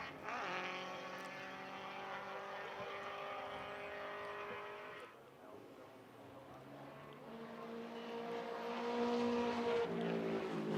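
A Ford Probe race car at an SCCA event screams past with a sustained high, buzzing engine note that drops off midway, then a second rising engine whine builds again, heard from a distance.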